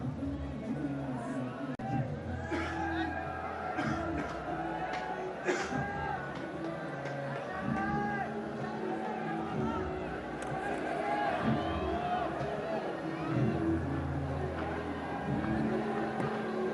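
A crowd at a Pakistan versus South Africa cricket Test match, a steady broad murmur of chatter and movement filling the ground, with a commentator's voice talking over it.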